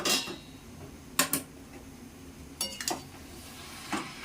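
Metal pot lid lifted off plantain flower cooking in a pot: scattered sharp clinks and clatters, with two louder bursts and a few lighter taps over faint background noise, no talk.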